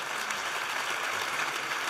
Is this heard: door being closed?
no